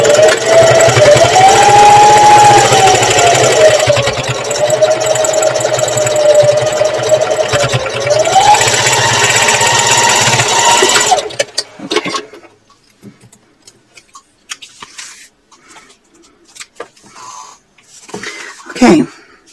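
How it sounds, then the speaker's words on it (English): A sewing machine runs steadily for about eleven seconds, reinforcing a seam around a small fabric purse, then stops, leaving quiet handling noises and a few faint clicks. "I'm going to stitch it around one more time just to give that stitching a"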